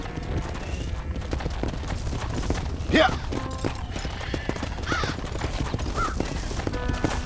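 Horse hooves clip-clop steadily in Red Dead Redemption on a ranch near a stable, under occasional game dialogue, a brief whinny and bird caws, with a loud burst around the middle.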